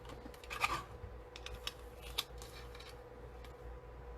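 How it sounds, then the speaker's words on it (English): Paper cardstock being trimmed to size for a stamped card, giving a few soft, close snips and cutting scratches at a quiet, hand-crafting pace. "Let me see if I can trim it down just a tad."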